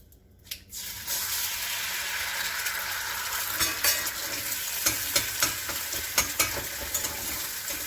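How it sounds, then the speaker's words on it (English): An egg dropped into a hot skillet at breakfast bursts into a loud, steady sizzle after a brief quiet moment, with crackling pops spattering over it and no talking. "I'm going to cook me an egg in this skillet."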